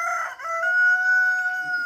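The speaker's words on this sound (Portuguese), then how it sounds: "O galo cantando." A rooster on a rural smallholding crowing close and loud, one sustained cock-a-doodle-doo call with a clear held tone, alone without talk.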